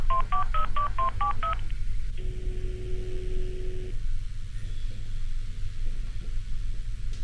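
A phone keypad dials a quick run of about seven touch-tone beeps. A single steady ringback tone follows, then a low background hum.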